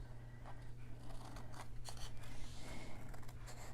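Scissors trimming patterned paper for a mini album, a series of close, short snipping cuts over a steady low hum, no voice heard.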